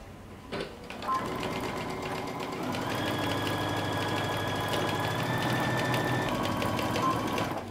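A sewing machine stitches down the sleeve of a lace sweater knit dress at a 5/8 inch seam, starting after a brief bump and running in a continuous close rhythmic whir.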